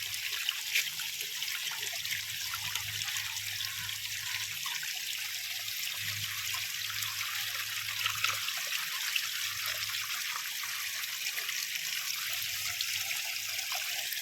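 Rainwater overflowing from a borewell after heavy rain in Almavadi, Dediyapada, a steady continuous rush and trickle of water running for the whole stretch with a low hum beneath, no voices.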